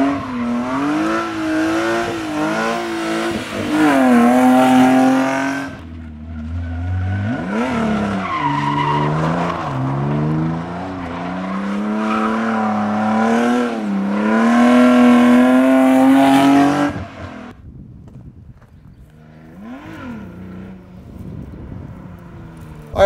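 A BMW E36 drifts nearby, its engine revving hard in rising and falling surges while the tires skid and squeal in long, loud bursts, then the noise drops away toward the end.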